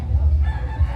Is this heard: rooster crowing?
yes